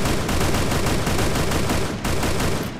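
Rapid automatic gunfire in the mobile shooting game Free Fire, a loud, dense burst of closely spaced shots running nearly continuously, with a short break near the end, and no talk.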